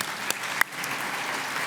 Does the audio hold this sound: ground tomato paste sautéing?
no